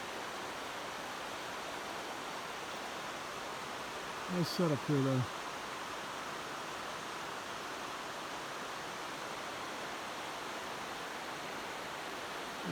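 A river flows with a steady, broadband rushing hiss throughout, and someone briefly speaks partway through over the continuous water noise.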